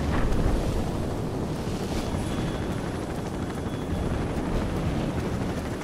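A helicopter in the video game Call of Duty: Modern Warfare Remastered drones as a loud, steady broadband rotor and wind roar that holds unchanged throughout, with no voices.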